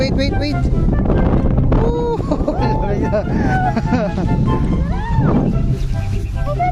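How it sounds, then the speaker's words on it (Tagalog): Gusty wind in an open field buffets and rumbles loudly throughout, roaring against the microphone as several people talk over it. "Lakas ng hangin ah. Delikado yata."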